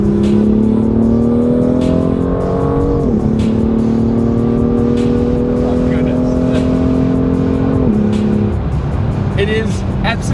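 A BMW M2 engine accelerates hard, a loud close droning roar whose pitch climbs steadily, dropping twice with gear shifts and climbing again, with no talking over it.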